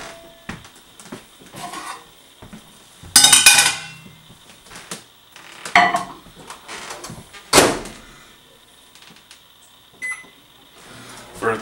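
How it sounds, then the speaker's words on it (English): Clattering of dishes and a microwave door banging shut as a dish goes in, with scattered clinks and thuds across several seconds, close by and fairly loud, no talking. "I just put them in my microwave."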